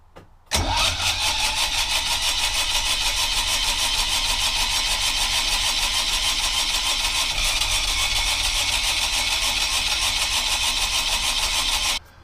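A boat's diesel engine catches after a brief start and runs loud and close at a steady, even idle for about eleven seconds, then shuts off, with no voices.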